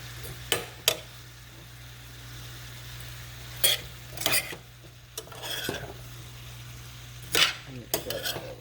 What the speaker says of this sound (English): Mix that all around like that.